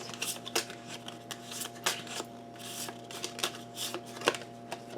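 Tarot cards being shuffled by hand, repeated soft riffling and sliding bursts at a moderate pace, close and fairly quiet over a faint steady hum.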